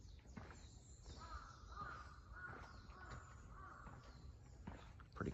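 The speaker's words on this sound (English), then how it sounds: "Just hear the birds." Crows caw repeatedly in the woods on a quiet mountain hike in Japan, faint and somewhat distant calls over soft background rustle and occasional footsteps.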